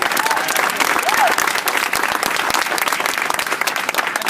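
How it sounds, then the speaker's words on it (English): Warm applause from an audience at a campus rally against Islamophobia at UT Austin, steady dense clapping that fills the whole stretch, with a few voices calling out underneath. "Give a real warm round of applause."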